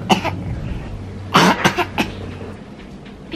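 Babies cough in short bursts, with a weak cough at the start and then a cluster of harsher coughs in the middle, close and fairly loud in a quiet room.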